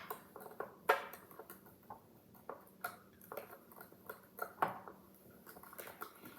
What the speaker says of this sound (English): I'm going to mix it up.